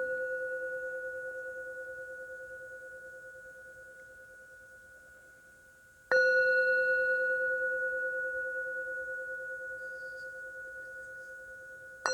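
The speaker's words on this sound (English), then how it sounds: "listening to the tone of the bell" A yoga class bell rings twice, each strike leaving a clear, pure sustained tone that slowly fades in a quiet room, the second strike about six seconds after the first.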